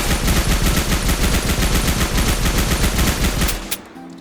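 A blocky Minecraft Bedrock MP40 submachine gun empties a full magazine in one loud, rapid, unbroken burst of automatic fire that cuts off sharply near the end, followed by a short click and quiet.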